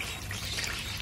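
Water is poured and changed for pet rabbits, making a steady, close trickling and splashing throughout with no voices.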